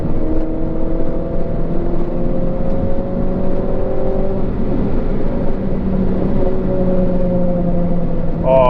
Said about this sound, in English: Just listen to that. 2 liter naturally aspirated,